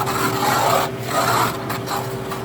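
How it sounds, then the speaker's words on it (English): A mixing paddle scrapes settled solids off the sides of a soundness test bath in a soils lab, a continuous close rasping rub in a few long strokes with brief pauses between them. "you're going to scrape all of the solids off the sides"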